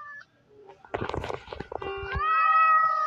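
Cats in the Roblox horror game Escape Granny's House let out a few meows, with a longer, rising, drawn-out meow toward the end over quiet game ambience.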